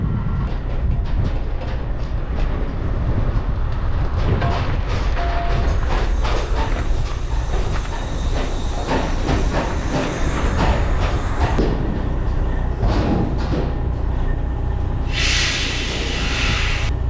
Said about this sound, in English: It looks like we pulled away with one of the brakes dragging.